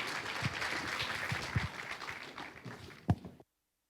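Audience applause for graduates at a high school senior awards night, a fairly distant wash of clapping with a few sharper claps, fading out into silence near the end.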